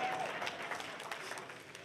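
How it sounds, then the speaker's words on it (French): A church congregation breaks into scattered applause during a French-language sermon, a dense, steady patter of clapping that fills the whole moment with faint voices mixed in. "il y a même du monde qui veut l'applaudir à ça"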